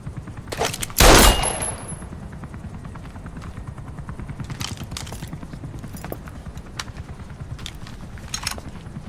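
Automatic weapon fire in Metal Gear Solid V: one loud, close burst, then scattered distant shots and rattles over a steady low rumble of engines or rotors.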